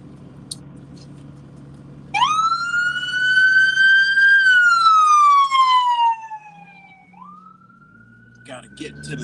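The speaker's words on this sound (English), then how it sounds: "We'll let this ambulance through." An ambulance siren wails up loud over low traffic rumble, holds for a few seconds, then drops in pitch as it passes and fades into the distance.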